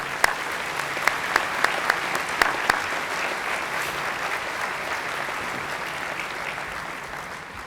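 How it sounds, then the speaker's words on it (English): An audience at an awards breakfast applauds the nominees, a sustained round of clapping with several sharp, distinct claps near the start before it settles into an even wash that slowly thins. "Please join me in a round of applause for them."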